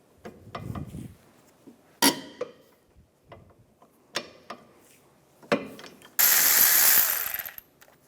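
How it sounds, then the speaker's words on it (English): A ratchet with a 16mm socket loosens the caliper bracket bolts on a 2007-2013 Mini Cooper, giving several separate bursts of sharp clicking close by, then a louder, longer rasping run near the end. "Now I'm going to use a 16mm socket, take the two caliper bracket bolts out."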